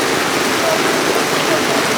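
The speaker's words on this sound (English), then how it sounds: "Well, it started to rain here." Rain falling in Kotor, Montenegro, heard from beneath an umbrella as a dense, even wash of drops hitting surfaces, steady and fairly loud throughout.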